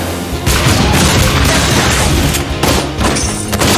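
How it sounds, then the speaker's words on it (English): A loud, booming turret-destruction explosion in the mobile game Mobile Legends: Bang Bang, with dense rumbling blasts and crashes that continue throughout. "Our turret has been destroyed."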